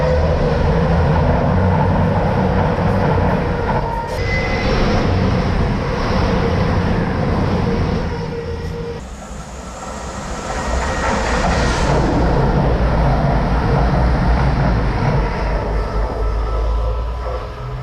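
A Class 47 diesel locomotive runs back through Wellingborough railway station, a loud, sustained rumble with rail clatter that swells and eases across the pass, heard up close with no voices.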